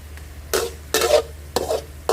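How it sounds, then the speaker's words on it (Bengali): Turmeric, cumin and whole spices are sautéed in oil in a large wok, with three loud bursts of spatula scraping and sizzling over a low, steady hiss. "একটু সময় কষাবো, কষানোর তেলটা যেন বের হয়ে যায়।"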